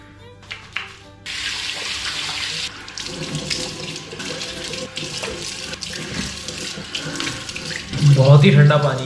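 A water tap runs steadily into a sink while someone washes their face, a loud, continuous splashing hiss that swells with heavier splashing near the end.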